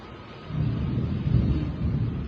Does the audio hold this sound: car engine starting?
no